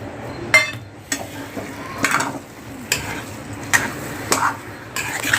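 Semolina sheera for prasad being stirred in a pan with a spoon, giving repeated scraping strokes and light clinks against the metal roughly every second, close and moderately loud with no talking.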